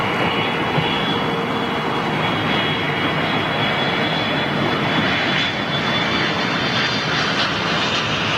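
An Airbus A330 jet airliner at Heathrow fills the air with a continuous loud engine roar, a broad steady rush with a thin high whine on top.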